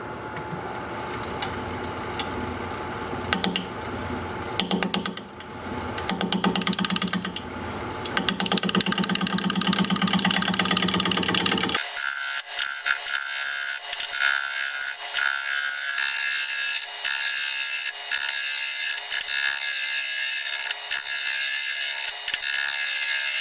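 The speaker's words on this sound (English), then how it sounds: "We're going to be turning at 520 RPM, 5/8 inch bowl gouge, mask and face shield on." California olive wood spinning on a wood lathe at 520 RPM under a 5/8 inch bowl gouge, a loud sustained scraping, whirring cut that runs steadily throughout, turning to a brighter, higher steady whine partway through.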